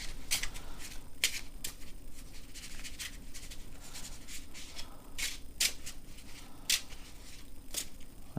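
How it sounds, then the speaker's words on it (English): Loot cards from the board game Too Many Bones being shuffled by hand, with repeated crisp riffling bursts and soft card slaps at an uneven rhythm, close and fairly quiet. "I'll shuffle the loot on screen so you guys see that"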